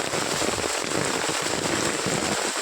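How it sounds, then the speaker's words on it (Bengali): Heavy rain pours down in a village, a dense, loud, continuous hiss of drops striking surfaces nearby, with no voices. "জলের আওয়াজ সরসর সরসর করছে।"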